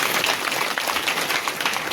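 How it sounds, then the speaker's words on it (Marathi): An audience claps in a dense, steady burst that sounds close and fills the whole short moment without a break. "एकदा तुमच्यासाठी टाळ्या वाजल्या"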